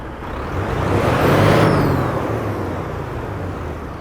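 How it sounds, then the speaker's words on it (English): A Kenworth T680 Next Gen truck engine in American Truck Simulator fires up with a deep diesel rumble that swells to a loud peak, then settles into a steady, close idle drone. "let's get this Kenworth T680 Next Gen started up and get on the road"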